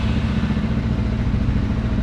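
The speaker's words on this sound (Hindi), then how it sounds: "ये साउंड सुन के आप समझेंगे ये कोई डुअल सिलेंडर है, but no, this is a single cylinder motorcycle." A Lifan K29 250cc single-cylinder motorcycle engine idling close by, a loud, steady low throbbing rumble with an even pulsing beat throughout.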